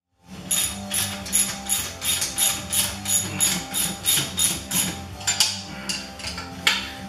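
A ratchet wrench tightens a lock nut on a Kubota snow blower's drive chain and gear box assembly, giving a close, steady series of rapid metallic clicks in back-and-forth bursts with light clanks near the end and no speech.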